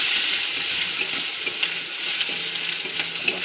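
Spices with ginger paste fry in a pan, giving a steady, close hiss and crackle with faint stirring scrapes and small pops scattered throughout; no one speaks.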